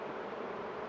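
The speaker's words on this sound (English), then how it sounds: "Too many bees there." Honey bees buzzing at an open beehive during a hive split, a steady, dense hum filling the whole moment without pause.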